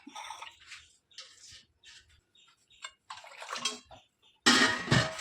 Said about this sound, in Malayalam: കുറച്ചും കൂടെ വെള്ളം ചേർക്കണം.